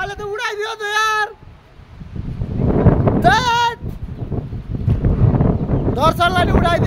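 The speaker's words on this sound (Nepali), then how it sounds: "यो बेलामा हावा चलेको" Strong wind during a windstorm in Beni, Nepal, roars and buffets the microphone in loud gusts outdoors, with people's raised voices breaking in before and after.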